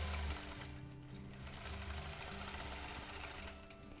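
A sewing machine runs in a steady, continuous hum of rapid stitching while it bastes the bottom edge of a quilt, close to the listener and with no talking.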